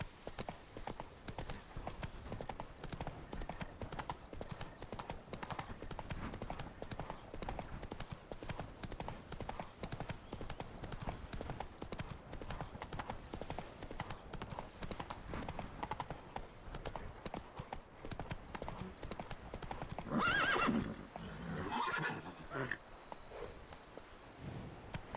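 Roach, a horse in The Witcher 3, clip-clops steadily at a walk through most of the stretch, with a short neigh or whinny near the end over faint game ambience.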